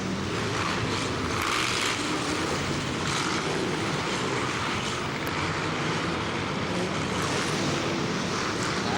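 A steady, dense roar of Formula 1 stock car engines fills the air continuously, many powerful cars thundering around the track at a distance.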